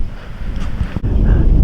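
Wind buffeting the microphone in low rumbling gusts at Orlando Wetlands on an overcast day, loud and close, with no talking.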